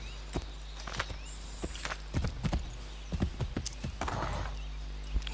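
Horse hooves pounding at a gallop in the video game Assassin's Creed 3, a steady run of close, sharp clip-clop beats with a brief whinny and game ambience beneath.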